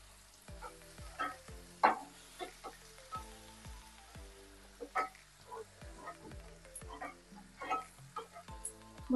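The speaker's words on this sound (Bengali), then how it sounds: "এবার ভালো করে নাড়াচাড়া করে নেব।" Bottle gourd peel being stirred and fried in a pan: soft, fairly faint spatula taps and scrapes recur over a low, gentle sizzle.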